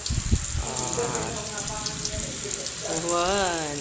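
Steady hiss of lumpia frying in oil throughout, with a voice talking over it near the start and again toward the end.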